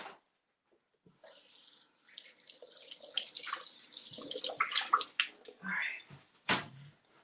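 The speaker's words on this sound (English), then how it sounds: "Let's rinse these off." Tap water running into a sink while items are rinsed under it, a splashing, gurgling stream that swells and shifts after a short silence, close and moderately loud, ending with a sharp clatter.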